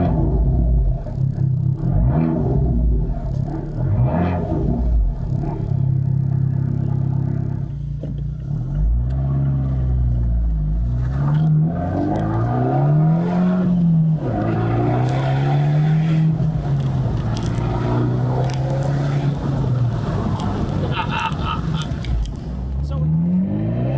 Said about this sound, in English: Let's listen to this standard, certainly for the Abarth model, Monza or record Monza exhaust.